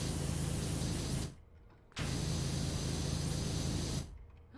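A pressure washer sprays a door in the video game PowerWash Simulator, giving a loud steady hiss of spray that runs for over a second, cuts out briefly, then runs again for two seconds before stopping, with no talking.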